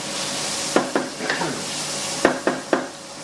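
Chili con carne being stirred in a pan over medium heat, a spoon scraping in two bursts of three strokes against a faint sizzle.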